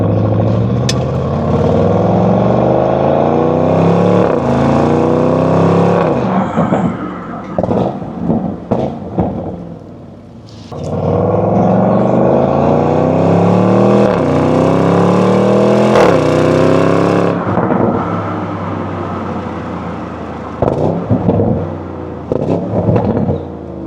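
A 2025 Audi RSQ8 engine revving hard, rising in pitch through two long pulls with crackling pops in between, close and dominant.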